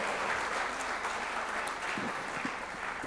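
An audience at a conference claps steadily for a singer, a dense, even round of applause throughout, heard from a moderate distance.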